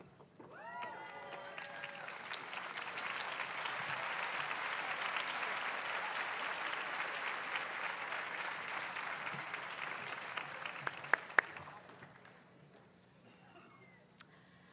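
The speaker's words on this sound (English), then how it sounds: "give a round of applause to all of our graduates in the humanities" Audience applause for master's and doctoral graduates at a Villanova College of Liberal Arts and Sciences commencement ceremony, a broad steady wash of clapping from a large hall that rises, holds for several seconds, then fades to scattered claps.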